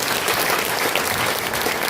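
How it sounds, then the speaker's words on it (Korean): Residents at a Huam-dong redevelopment community briefing break into loud, sustained clapping, a dense, even roar of many hands with no talk over it. "다 같이 힘찬 그 박수를 치면서 시작하겠습니다"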